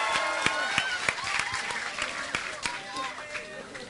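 Audience applause and cheering at a talk at the US Embassy's @America venue in Jakarta, a dense wash of clapping with sharp individual claps standing out, steady and fairly close throughout, with voices mixed in.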